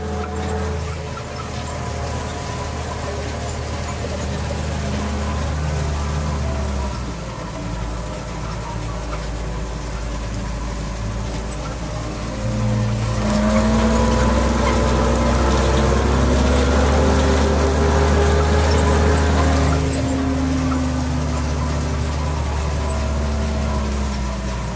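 A tractor stubble-cultivating a barley straw field thick with ryegrass, its engine droning steadily in the cab, growing louder and heavier with rising whine and rattles in the middle stretch.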